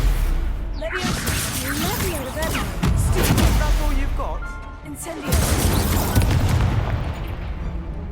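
Incendio fire spell explosions during a Hogwarts Legacy duel, repeated booming blasts with whooshing magic and bursts layered over battle noise, with voices talking amid the fight.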